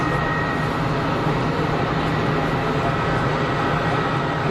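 An airliner, an EasyJet jet on short final at Geneva Airport, gives a steady broadband roar that holds level and loud throughout, with no talk over it.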